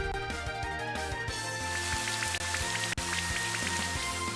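Steady rain weather effect from Pokémon Platinum on Switch, a continuous hiss of falling rain layered with a looping game music melody, no voices over it.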